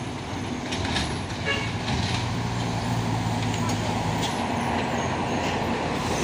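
A Mitsubishi Fuso truck rolls past on a road with tanker trucks around, its engine a steady loud rumble and a long sustained horn note sounding through the middle, with voices talking over the traffic.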